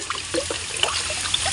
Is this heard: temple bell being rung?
no